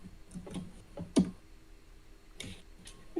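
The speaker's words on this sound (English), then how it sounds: "Now, why don't you type some stuff?" Keys clack faintly on a computer keyboard in a few quiet, irregular taps and short bursts, with gaps between the strokes.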